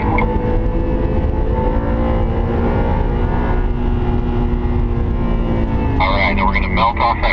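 An Audi R8 accelerating on the Sonoma Speedway road course, heard from inside the car as a loud, steady engine drone that holds throughout with a slight rise near the end.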